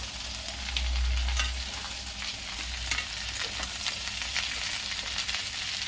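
Boiled potatoes and cauliflower sizzle steadily in a hot pan over a low flame as a spoon stirs and scrapes them around, close and continuous.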